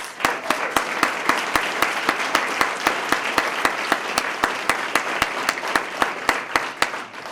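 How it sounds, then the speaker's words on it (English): Audience applause at a police swearing-in ceremony: a sustained wash of clapping with a sharp, steady rhythmic clap standing out close by, lasting throughout without a break. "Let's give him a round of applause."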